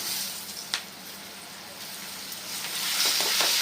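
Grated raw mango hisses and sizzles in hot oil with garlic paste and turmeric, a close, steady frying crackle that grows slightly louder toward the end.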